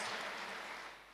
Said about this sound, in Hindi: ऐसी जरूर ताली बजाए